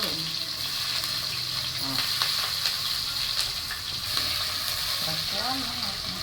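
Onions sizzle steadily in a pan of oil while being stirred during sambar preparation, a continuous hiss with occasional soft clinks, no talking.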